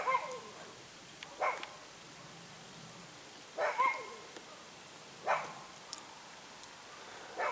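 A single pet dog barks at nothing in particular, giving a handful of sharp, widely spaced woofs against a quiet, still background.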